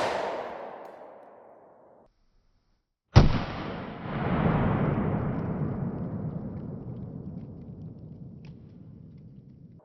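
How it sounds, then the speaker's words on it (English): A 10mm Glock pistol firing a 180-grain round into OSB sheets. A single sharp, loud shot at close range follows the fading tail of an earlier sound and rolls out into a long, decaying echo. "it shot chunks of OSB all over the place"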